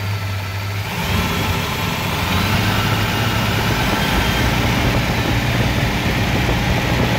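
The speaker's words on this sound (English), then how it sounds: "I'm just going to give it some revs." The supercharged engine of a Studebaker Golden Hawk, its variable drive blower pulley working, idles and then rises into sustained revs after about a second, a loud, steady mechanical roar with no talk.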